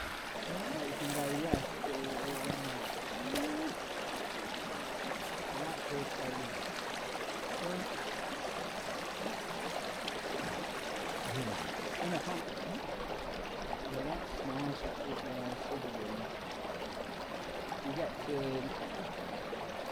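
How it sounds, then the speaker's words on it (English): A hillside stream in the Peak District flows with a constant, close babbling rush, while people talk intermittently over the water throughout. "Going to get a drink of water from that stream."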